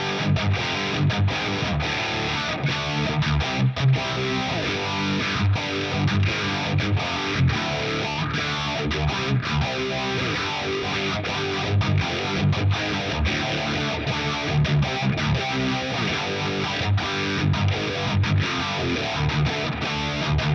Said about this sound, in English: So I was just scrolling through some phaser sounds.